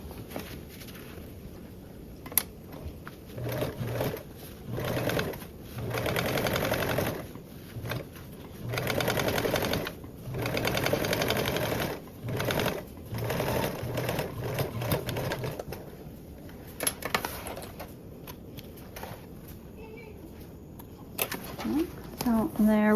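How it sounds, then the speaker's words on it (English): A sewing machine top-stitches a panel for a Cascade duffle bag in bursts of steady, moderately loud stitching separated by short pauses, with a voice speaking faintly in the gaps. "Open and top stitch."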